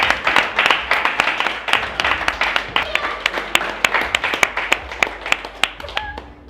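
Reunion-show audience claps for a guest, a dense burst of applause that thins toward the end into scattered, distinct hand claps close to the microphone.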